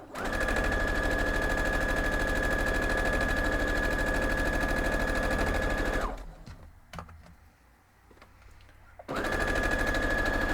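A sewing machine stitches quilt block pieces for a 12-inch block with a loud, continuous whirring run that stops for about three seconds and then starts up again.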